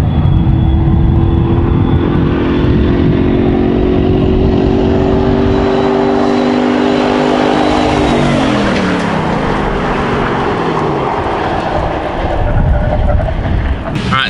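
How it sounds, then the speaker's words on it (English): Ford F-150 pickups run side by side on an abandoned Texas World Speedway, a loud close engine drone with a falling pitch as they pass, followed by a sustained rushing road roar. "first time ever the F-150s side by side on Texas World Speedway"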